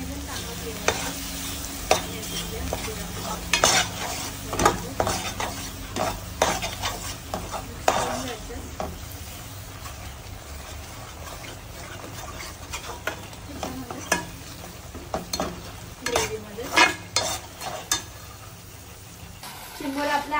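Black crab masala sizzles in a pan while a utensil stirs and scrapes through it in irregular clattering bursts, with the frying hiss continuing close and steady underneath.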